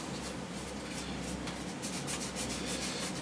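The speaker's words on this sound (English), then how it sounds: "Rub it into the box, just marrow in there." Steady, close rubbing as glue is worked into a clamshell box, a continuous soft scuffing texture with slight swells over a constant low hum.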